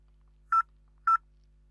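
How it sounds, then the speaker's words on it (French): Two short, evenly spaced keypad dialing tones from a VoIP desk phone, clear and alone over a quiet low hum. "Vous voyez, ça sonne."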